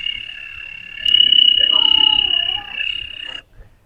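A voice imitates a cricket, holding a sustained shrill whistling chirp at close range for about three seconds before it stops abruptly.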